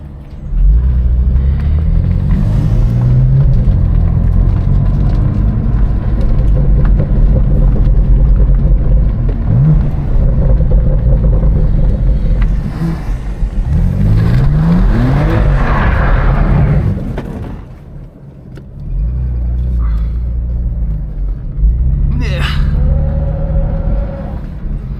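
Tuned BMW M2 Competition F87 or M4 Competition cars with loud, steady engine drone heard from inside, swelling during a quick U-turn with tires struggling for grip, then easing and picking up again.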